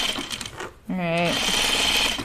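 Sewing machine stitching a dress sleeve, a short steady run of motor hum and needle chatter starting after a brief pause, fairly close and alone.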